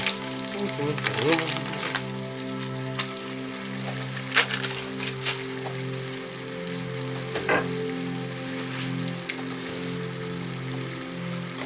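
Butter melts and sizzles steadily in a hot candy corn sugar mixture on the stove, a continuous crackling fry with occasional clinks and stirring sounds throughout.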